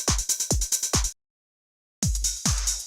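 Synth patch imitating the Colin McRae Racing PS1 game music, punchy rhythmic stabs with deep bass thumps in a fast pulsing pattern, cut by a second of silence before resuming.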